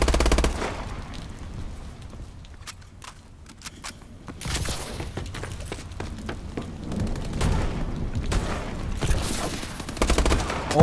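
Gunfire in the Call of Duty Advanced Warfare free-for-all multiplayer mode: continuous rattling automatic bursts and heavier booms, loud and sustained throughout with no talking.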